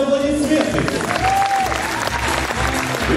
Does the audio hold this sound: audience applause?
yes